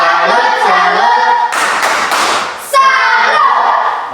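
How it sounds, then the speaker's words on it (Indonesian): Classroom applause for a student group in a Grade VII science lesson: a short burst of broadband clapping and thumps from about 1.5 to 2.7 seconds, sandwiched between stretches of teacher-led chanting and voices. "mari kita beri tepuk salut untuk kelompok 3"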